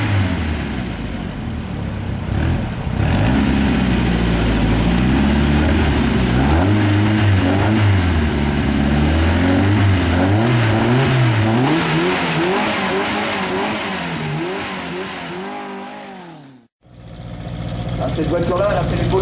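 A 1969 rally car engine revving hard and rising and falling in pitch as it accelerates past, loud and close, under a commentator's talk, cutting off sharply near the end.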